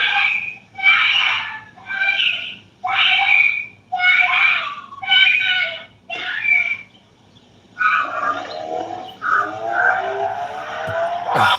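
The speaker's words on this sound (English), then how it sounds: "The abduction wasn't caught on camera, but you can hear the screams in the background." A 7-year-old child screams in the background during a kidnapping: about seven loud, piercing bursts in a choppy rhythm, a brief pause, then a longer, wavering wail. The screams are heard alone, with no talk over them.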